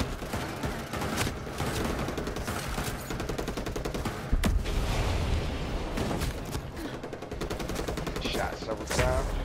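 Gunfire in Ghost Recon Breakpoint, sustained rapid automatic bursts with scattered heavier booms, continuous and fairly loud, with a voice talking over parts of it.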